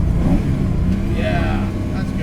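A modified 1965 Ford Mustang engine by Detroit Speed blips and revs during a heel-toe downshift, a loud, close mechanical growl with quick throttle rises, under a voice speaking in the cabin.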